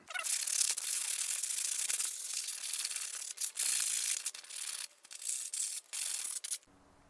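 Sharp edges being sanded off a light mount for a Rav4, a loud, close, continuous gritty rasp that keeps stopping and restarting in short strokes before cutting out.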